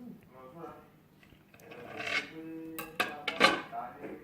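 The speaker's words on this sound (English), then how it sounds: "So at this time, we're going to slice the egg the long way, like so." Knife slicing a peeled hard-boiled egg lengthwise on a cutting surface: a few soft scraping cuts and light taps, close and quiet, with someone talking faintly underneath.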